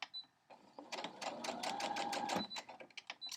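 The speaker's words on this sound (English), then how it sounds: "Now my machine is telling me my bobbin thread is almost out" Sewing machine stitching seams of a crumb quilt block on fusible foundation with non-cotton fabrics, a close, rapid mechanical chatter that speeds up and then slows into separate stitches.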